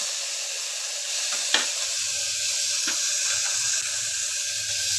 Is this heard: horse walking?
no